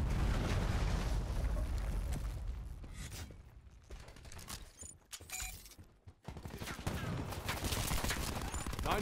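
Hellstorm missile strikes in Black Ops 4 produce loud, dense volleys of explosions and rapid gunfire-like bursts that fill most of the stretch, easing briefly in the middle before another heavy barrage.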